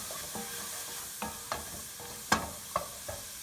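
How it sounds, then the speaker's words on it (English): Portobello mushrooms sauté in water in a pan, a steady faint sizzle broken by several sharp clinks and scrapes of stirring, close up and without speech. "I'm going to add the portobello mushrooms to it. And saute it a little bit."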